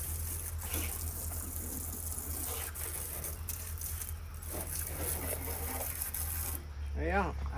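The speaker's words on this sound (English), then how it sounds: "Seemed like there was no end to the air coming out of the faucet." Air and water sputter and gush from a household faucet, a steady rushing hiss with irregular spits beneath a low hum, while people talk nearby.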